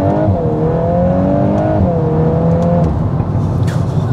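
A 2021 VW Golf R MK8 accelerates hard from inside the cabin, engine note climbing steadily through a gear, dropping briefly at a shift near the middle, then pulling again, loud and close.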